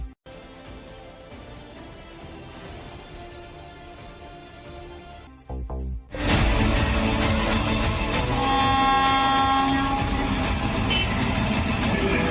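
A train engine moves through a tunnel: a steady low rumble gives way after a brief dropout to a loud, sustained roar with rattling and metallic squealing tones, continuing to the end without speech.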